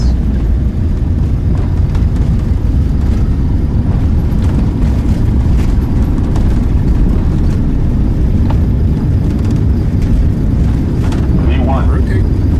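Airliner jet engines roar steadily through a takeoff roll in a flight simulator game, a loud continuous low rumble lasting throughout, with a voice speaking briefly over it.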